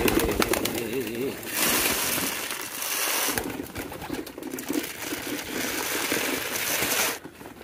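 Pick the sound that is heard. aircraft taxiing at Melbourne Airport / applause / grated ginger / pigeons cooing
pigeons cooing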